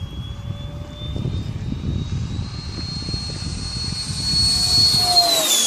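Mirage 2000 model jet with a 90mm electric ducted fan running at full throttle, drawing 68 amps: a loud, steady close-up roar with a high whine that climbs in pitch toward the end.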